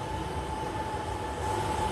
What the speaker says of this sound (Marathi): हीच ती बुलेट ट्रेन आहे